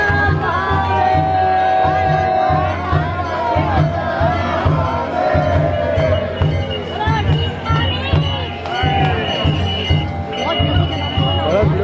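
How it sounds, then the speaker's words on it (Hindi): Large crowd of devotees gathered for the evening aarti in Ujjain, a dense continuous murmur of many voices with shouts and calls rising throughout, close and loud. "शाम की होने वाली आरती में शामिल होने के लिए आए हुए श्रद्धालु, कितनी भीड़ है"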